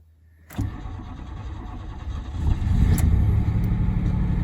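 A 1987 Pontiac Bonneville with a suspected broken shaft or cup is started: a brief starter crank, then the engine catches and idles, revving up louder after a couple of seconds, close by and with no talk.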